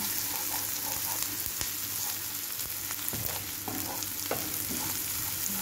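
Garlic and onion sauté in a pan for macaroni with sweet corn, making a steady close sizzle with scattered spatula scrapes and stirring clicks throughout, with no talking.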